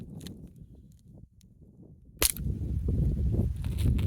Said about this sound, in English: Got our shell loaded up. Safety's off. Firing.